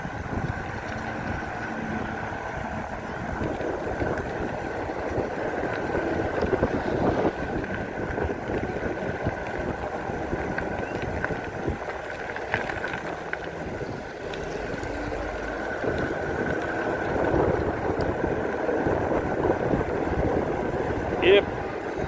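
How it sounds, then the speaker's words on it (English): Strong wind buffets the microphone while riding an EMX Xtreme 60V dual-motor electric scooter on a road, a continuous rough roar lasting over twenty seconds with a faint steady motor whine, and someone talks at times. "Wow, that's a strong wind."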